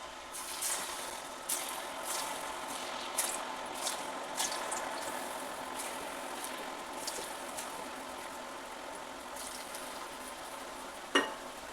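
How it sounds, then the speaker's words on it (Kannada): Pumpkin gari, a North Karnataka sweet, fries in hot oil with a steady, even sizzle and soft bubbling, marked by occasional light stirring clicks and one sharper tap near the end. "ಎಣ್ಣೆನ ಬಿಸಿ ಮಾಡಲಿಕ್ಕೆ ಇಟ್ಟಿದ್ದೆ. ಇವನ್ನ ಒಂದೊಂದಾಗಿ ಹಾಕ್ತಾಯಿದ್ದೀನಿ."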